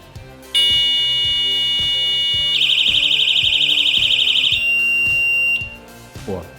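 A loud, shrill electronic beeping alarm from an AS0808 bicycle lamp sounds, switching to a faster warbling pattern, then cuts off, over a steady rhythmic clicking.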